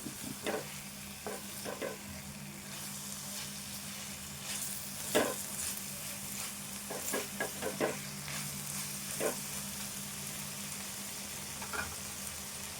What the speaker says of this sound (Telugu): మంచిగా ఫ్రై అవుతాయి.